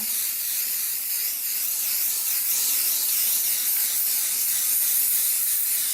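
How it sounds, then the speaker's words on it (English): A continuous spray adhesive can hisses close by, a steady bright rushing sound with slight wavering, lasting throughout without talk. "So what I'm going to do is spray it on here."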